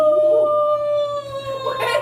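A person imitates a humpback whale call with a sustained, tonal, moaning howl that slowly glides downward in pitch. It is loud and close and heard alone, then turns breathier and noisier toward the end.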